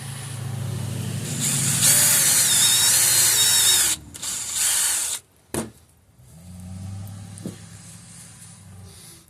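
A power drill whines loudly for about four seconds as it bores into a Hawaiian spearfishing sling for a Cressi reel mount, then gives short bursts and clunks before a quieter hum.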